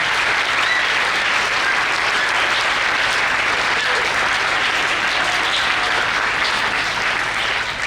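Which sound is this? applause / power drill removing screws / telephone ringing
applause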